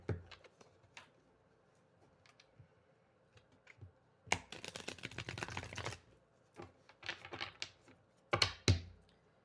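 Crisp bursts of tarot cards being riffled and shuffled, two longer flurries with scattered taps and clicks between them, close and fairly quiet.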